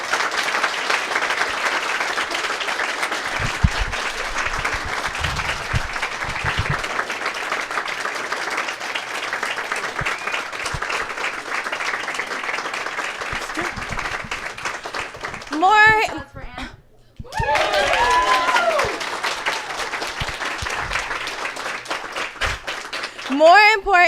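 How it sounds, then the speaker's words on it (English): A Gen Con 2017 panel audience applauding, dense sustained clapping filling the room for about fifteen seconds before briefly dropping out, then cheering and whoops as voices and more crowd noise return. "How about a round of applause for these lovely ladies?"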